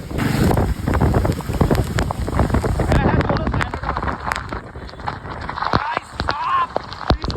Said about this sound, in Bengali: মুষলধারে বৃষ্টি হচ্ছে, মুষলধারে